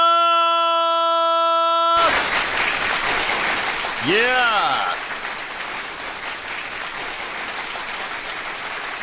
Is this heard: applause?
yes